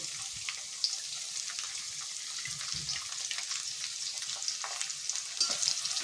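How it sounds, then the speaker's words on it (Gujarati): Chopped onion and curry leaves sauté in hot oil in a pan for moung dal, giving a steady bright sizzle with scattered crackles and a few soft stirring scrapes throughout. "બધું જ આપણે અહીંયા સાતરી લઈશું"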